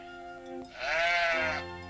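A single sheep on a mountain sheep farm lets out one clear, wavering bleat, close and fairly loud, with no voices.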